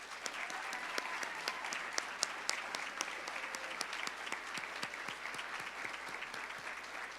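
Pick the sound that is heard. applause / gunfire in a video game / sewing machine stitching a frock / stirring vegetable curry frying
applause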